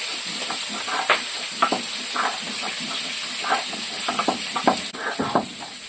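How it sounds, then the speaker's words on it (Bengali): Rohu fish head frying in hot oil, a loud, constant close sizzle and hiss with irregular spatters and pops running throughout. "মাছটা ভাজা হোক"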